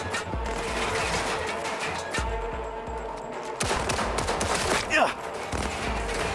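Gunfire in the video game Cyberpunk 2077 crackles in rapid bursts over a dense background of game sounds, loud and continuous throughout, with one sharper burst near the end.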